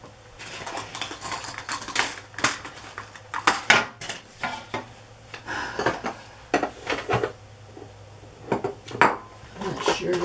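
Small metal paper clips clink and rattle as a hand rummages through them while making a junk journal, giving irregular bursts of bright tinkling clatter over about ten seconds.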